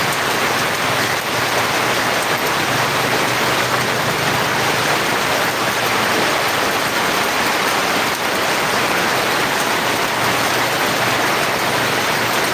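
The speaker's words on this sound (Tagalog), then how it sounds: "Ayan, lumakas na naman ulan." Heavy rain pours steadily as a dense, constant hiss on surfaces throughout, loud and close with no breaks and no voices.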